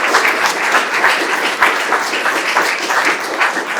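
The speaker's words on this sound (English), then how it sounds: "Should you give them another round of applause?" Enthusiastic applause from an audience at a public meeting, dense steady clapping throughout, close and loud.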